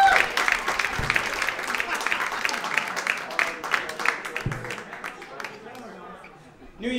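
Comedy club audience at the West Side Comedy Club in New York applauding a guest, a dense wash of clapping that holds steady and fades out over several seconds, with a voice briefly audible beneath.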